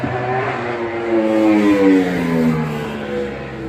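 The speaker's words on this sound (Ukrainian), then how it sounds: "От вони на цьому мотоциклі їдуть, воно дерчить, жужить, уре." A motorcycle engine revs as it passes along a street, its buzzing, rattling drone rising and falling in pitch, close and fairly loud, with no talk.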